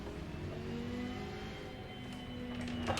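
A Lamborghini race car in a racing video game revs and whirs on the starting grid at Imola, a steady mid-pitched engine drone with rising tones, fairly quiet and alone for a few seconds.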